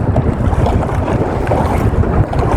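Strong wind roars steadily at sea around a small boat before dawn, a loud continuous rumble with buffeting gusts on the microphone and a faint wash of waves beneath, no voices.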